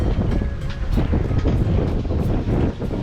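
Continuous wind of about 10 knots rushes and buffets at sea off Corsica, a broad roaring blow with gusty surges and a faint watery wash underneath.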